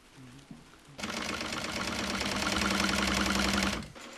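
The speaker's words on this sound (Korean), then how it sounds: "이 재봉틀은 미셸이 직접 조립한 건데요" A sewing machine that the owner assembled herself runs steadily for about three seconds after a quiet start. Its motor hum is close and loud, with a rapid needle clatter over it.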